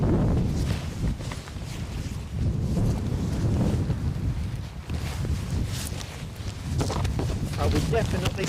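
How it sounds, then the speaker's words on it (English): Strong wind at Edinburgh airport buffets the microphone in heavy, rushing gusts that swell and ease throughout, with someone talking underneath. "I would definitely say this is the windiest it's been today."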